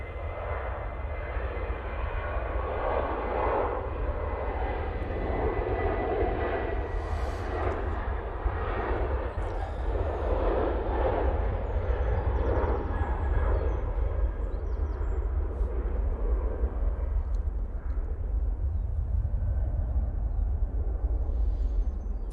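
An SAS airliner lands at Manchester Airport, its jet engines producing a loud, continuous broadband roar with a deep rumble that holds steady throughout.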